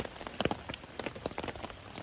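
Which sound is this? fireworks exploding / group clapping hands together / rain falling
rain falling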